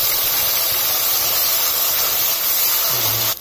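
A loud, steady sizzling hiss fills the clip as a spice paste for Punjabi-style rajma masala hits hot oil in a pan, cutting off abruptly at the end.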